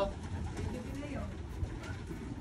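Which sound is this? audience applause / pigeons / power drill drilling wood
pigeons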